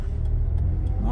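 A car passes nearby in a short, steady low rumble of engine and road noise, lasting about a second, with a voice talking over it.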